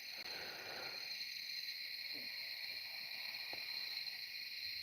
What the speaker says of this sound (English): those are our crickets, believe it or not